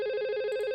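An IP phone rings with an incoming call during a voice-traffic lab, a steady electronic ring tone sounding loud and close for nearly a second before cutting off.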